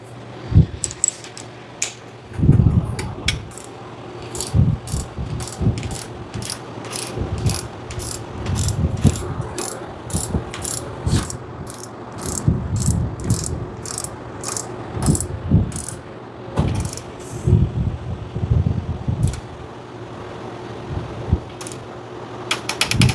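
A ratchet torque wrench clicks in quick repeated bursts while tightening oil pickup bolts to 12 pounds on an LS 408 stroker engine, with short pauses between the sharp, close runs of clicks.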